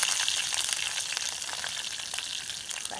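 Onions frying in hot oil with mustard seeds for a fish curry, a steady bright sizzle that holds close and even, with light stirring and no talk over it.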